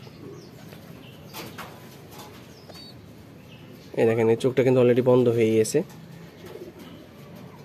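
A pigeon chick gives a loud, close, throaty coo lasting about two seconds in the middle, while a person talks quietly before and after it.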